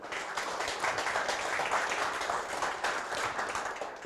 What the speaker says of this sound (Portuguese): Uma salva de palmas, né?